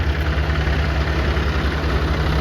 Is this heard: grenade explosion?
no